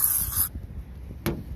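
Cleaning spray from a trigger bottle hisses out in a short burst, followed by a quiet pause and then a second quick spritz, close and clear.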